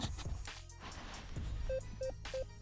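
A metal detector gives a signal tone while someone hunts for finds: a run of short, evenly spaced electronic beeps in the last second, over rustling handling noise and a steady hum.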